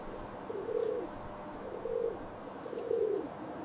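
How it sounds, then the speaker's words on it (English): A pigeon coos softly in three low, rolling calls spaced about a second apart, each a brief throaty murmur against quiet room noise. "Pigeon."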